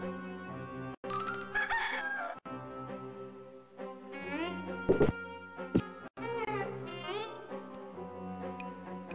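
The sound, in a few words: rooster crowing in the Discworld 2 video game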